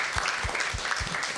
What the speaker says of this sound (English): Give it a round of applause for all of our competitors.